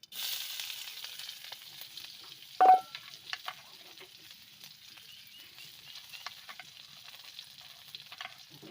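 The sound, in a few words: onions and dried red chilies frying in oil with mustard seeds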